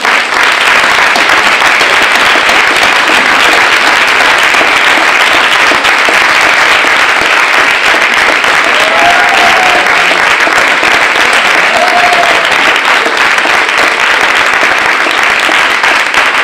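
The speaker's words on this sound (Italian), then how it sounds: "facciamogli un grande applauso" A large crowd applauding at an Italian event, loud dense clapping that holds steady without a break, close and enveloping.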